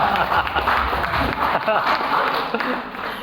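An audience at an eco-enzyme education talk breaks into sustained applause, a dense wash of clapping that runs steadily throughout with some crowd noise underneath.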